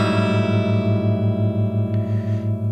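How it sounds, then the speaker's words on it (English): Guitar rings out a dissonant 4-0-4-0-4-0 chord as a single sustained strum, loud and close. The clashing notes produce a steady, pulsing wobble that fades slowly, with no talking over it. "the worst chord is the 4-0-4-0-4-0, which would sound like this."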